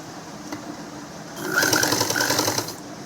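A sewing machine stitches along folded cloth for a child's frock. A rapid mechanical whir rises partway through, runs for about a second, then stops, close and fairly quiet.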